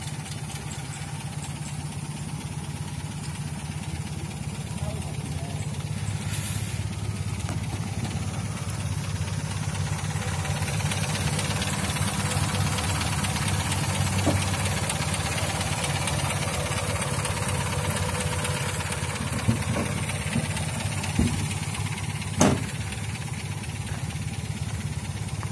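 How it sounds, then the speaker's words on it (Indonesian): A 1961 Land Rover Series engine idles steadily and close by, a low even rumble with faint knocking that holds throughout, plus a few brief louder knocks near the end. "Mesinnya langsung hidup."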